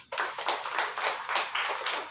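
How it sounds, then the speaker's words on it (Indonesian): A congregation at a funeral service in Palangkaraya claps in quick bursts, loud and close, fading and swelling over a couple of seconds. "Tepuk tangan untuk Tuhan Yesus."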